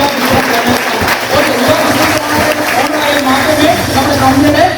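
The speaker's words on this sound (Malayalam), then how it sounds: "നിങ്ങൾ ഒരു കൈയടി കൊടുക്കാം" An audience claps through a business plan presentation, steady dense applause with a few sharper claps, continuous at even loudness, with a voice talking faintly underneath.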